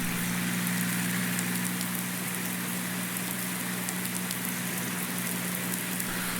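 Steady rain in the Farming Simulator 19 Seasons game at the Lone Oak farm, a continuous hiss with faint drop ticks and a low hum underneath, even and unbroken throughout.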